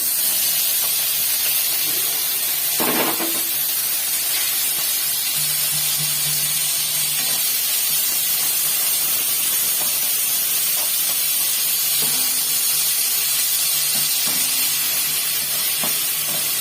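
Spice paste is added to a hot pan and hisses loudly with steady, bright sizzling steam, plus a few faint knocks in the background.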